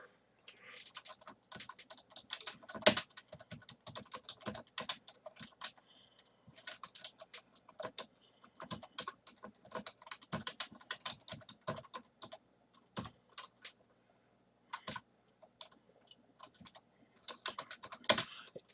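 Code is typed on a computer keyboard in uneven bursts of crisp, close key clicks with short pauses, continuing throughout without any voices.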